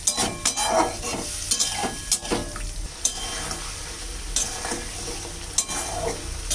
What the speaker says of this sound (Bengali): এখন দিয়ে দেব সেই পনিরগুলো। একটু কষিয়ে নেব পনিরটা।